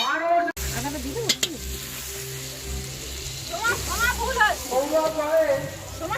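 Country rooster meat sizzles in hot oil for a curry while being stirred, with crackling frying, scraping and sloshing stirs, and a voice speaking over it in places.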